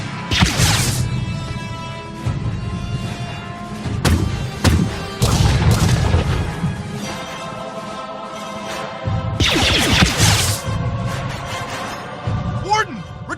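Heavy blaster gunfire and crashing impacts during an attack in Star Wars: The Old Republic on Belsavis, loud bursts of shots and booms recurring across the stretch, mixed with shouted voices and game sound.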